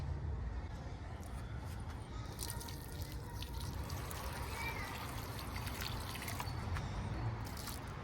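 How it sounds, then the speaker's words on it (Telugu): Water is sprinkled in soft, scattered drips and trickles onto compost in a compost bin, fairly quiet over a low background rumble. "ఇలా కొద్దిగా వాటర్ చల్లుకున్న తర్వాత దాన్ని అలా వదిలేయడమే అండి."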